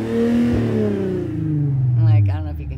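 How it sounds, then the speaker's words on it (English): An old, fast car's engine revs up loudly nearby, then its pitch slides down as it winds back toward idle, and a voice cuts in briefly at the end. "I'm going to rev up the engine for you on this old car so you guys can hear what I'm talking about"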